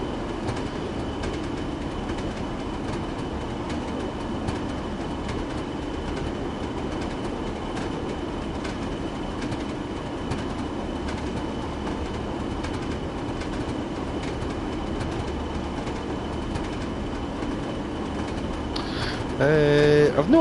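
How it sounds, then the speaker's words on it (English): A heavy 1,800-ton westbound oil freight train in the Train Sim World game rolls downhill under braking, giving a steady, loud, continuous rumble that holds for about twenty seconds with faint squealing tones near the end. "With minimum train brakes and the locomotive brake, you should be able to control the speed down here."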